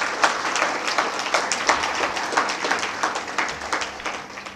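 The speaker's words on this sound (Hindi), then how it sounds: "तालियां बजाएंगे कबीर जी के लिए।" At a meditation center gathering, the audience claps for Kabir, a steady flurry of many hands that stays even and moderately loud from start to finish.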